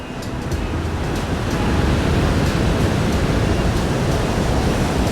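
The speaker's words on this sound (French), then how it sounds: "comme je suis plus proche de la mer, vous entendrez le bruit des vagues" Sea waves near the shore, heard as a loud, continuous wash of surf that swells slightly after the first half second and then holds steady with no voices.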